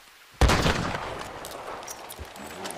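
A video game shotgun loaded with 12-gauge cartridges fires one sharp, loud blast close by, and its boom and echo trail away over the following seconds.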